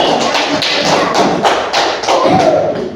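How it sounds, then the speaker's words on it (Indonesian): A classroom of children claps together in a roughly rhythmic patter, loud and close, with dull thumping beats rather than crisp slaps and no voices over it. "tepuk tangan untuk hari ini"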